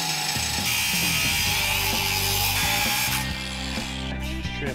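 Metal fender being cut off for a rat rod wrecker build, a loud, close, rough rasping cut with rhythmic strokes and ratcheting grind throughout, easing slightly near the end, with no talking.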